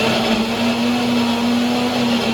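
A kitchen mixer grinder runs steadily, blending grated coconut with a little beetroot for Konkani solkadhi, a loud continuous whirring motor hum with no pauses and no voices.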